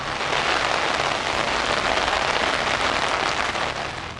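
Heavy rain pours down during thunderstorms, a dense, steady, loud hiss of drops hitting surfaces with no break or other sound over it.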